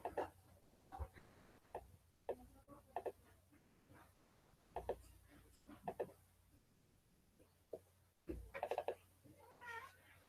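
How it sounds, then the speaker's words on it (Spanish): A cat meows several times indoors, with short, irregular calls scattered across a quiet room and a louder burst of meowing near the end, heard close and without speech. "Espera que llegó el gato."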